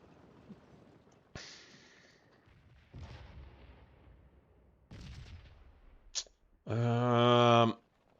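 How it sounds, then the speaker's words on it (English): Artillery fires in the Scourge of War video game's Seven Days Around Richmond mod. Several loud booms arrive at irregular intervals, each with a rumbling tail, and a long harsh blast near the end. No one speaks. "Let's bring one more battery up, see if we can't get them firing."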